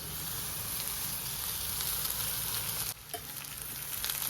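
Fried rice being stirred in a pan, a continuous crackling fry that briefly drops away near the end, then builds again.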